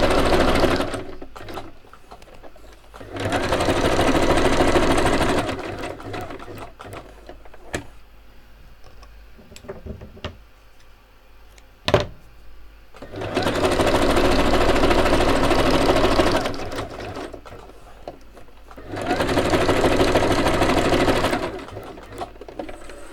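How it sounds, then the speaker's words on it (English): A sewing machine runs zigzag stitches around a piece of paper ephemera in three long bursts with quiet pauses between them, and small handling clicks fill the gaps. "I'm just going to stitch around it with my zigzag."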